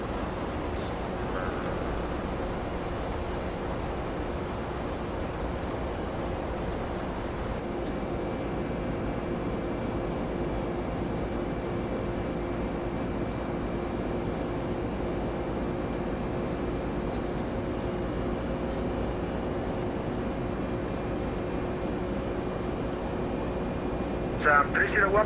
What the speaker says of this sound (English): I think those engines sound pretty good. Love that buzzsaw sound.